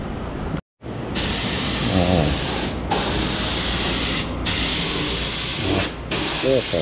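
A spray gun lays clear coat over white sandstone metallic paint on a 1964 Pontiac Catalina, a steady loud hiss broken by a few brief trigger releases, with faint voices underneath.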